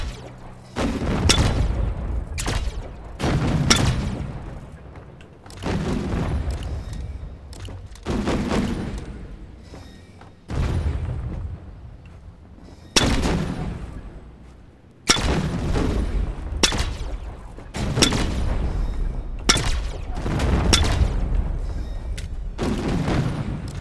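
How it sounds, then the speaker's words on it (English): Ship guns fire in the video game The Signal From Tölva: loud bursts of heavy booming shots in repeated volleys a few seconds apart, each trailing off before the next barrage. "What if I shoot off the guns?"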